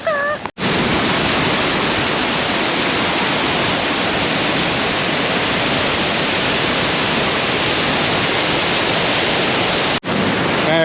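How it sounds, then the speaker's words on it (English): A waterfall in Jajce, Bosnia roars loudly from up close: a dense, unbroken rush of falling water that fills the whole stretch, with brief cuts near the start and end. "I tried to get close to the waterfall and I'm a little wet."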